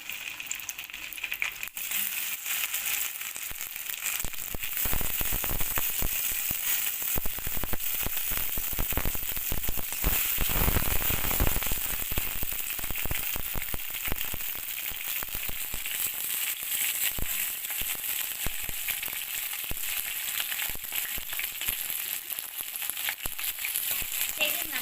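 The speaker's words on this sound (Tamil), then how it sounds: "நறுக்கின வெண்டைக்காயை சேர்த்துக்கோங்க." Okra sizzles and crackles in hot oil, a dense, steady frying hiss that carries on throughout with occasional louder pops.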